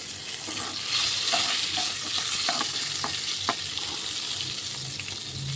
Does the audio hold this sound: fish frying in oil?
yes